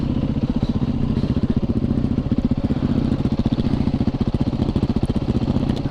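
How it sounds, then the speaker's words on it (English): A motorcycle being ridden in too high a gear with its chain slapping gives a steady, rapid rhythmic chatter over the engine drone, loud and close throughout. "I think it was in too high of a gear and I was getting chain slapped."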